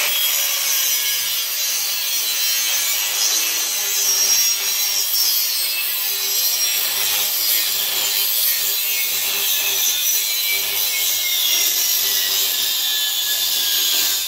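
Steady, continuous sawing through metal tubing clamped in a vise, a loud bright rasping stroke that runs unbroken with no voices.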